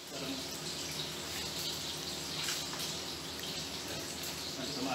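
Tap water runs steadily at a kitchen sink during dishwashing of plates, a continuous broadband hiss that stays fairly level throughout, with faint clatter and background voices underneath.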